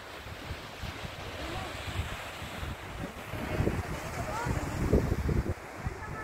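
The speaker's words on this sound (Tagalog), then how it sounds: "Ang dagat nila Pacob." Sea surf on a Zambales beach rolls in a constant wash, swelling louder toward the end, mixed with gusty wind buffeting the microphone.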